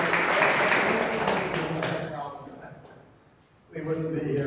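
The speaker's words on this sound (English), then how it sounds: "A little applause for us." Audience applause at a ham radio convention, a crowd's scattered clapping that fades out midway, then a voice resumes speaking at the end.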